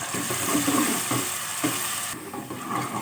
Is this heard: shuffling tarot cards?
no